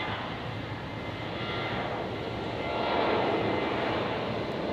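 A jet airliner takes off at Brisbane airport on a stormy night, a steady broadband engine roar from some distance that swells slightly midway and stays constant, with no voices.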